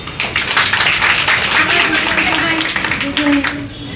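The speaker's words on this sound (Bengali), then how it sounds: "এত মানুষের হাতে তালি তো শব্দ কম।" An audience at an insurance company's zonal business planning meeting claps together, a dense, continuous patter of applause lasting a few seconds, with a voice speaking over it.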